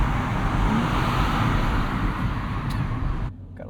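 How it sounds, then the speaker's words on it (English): Steady road traffic rumbles around a 2025 Nissan Z with a twin-turbo V6 and six-speed manual, a continuous low wash of passing cars that cuts off abruptly near the end, with no talking. "Got a little bit of traffic here."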